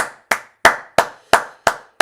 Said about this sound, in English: clap it up for you, bro.